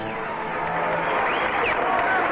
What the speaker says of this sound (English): Waving to the crowd, assembled here on the hangar deck of the USS New Orleans.